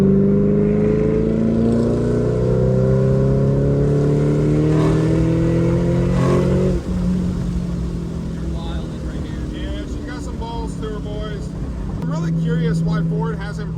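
Shelby GT500 with a straight axle being driven hard, its engine roaring loud and rising through several long pulls with gear changes, while people talk over it in the cabin.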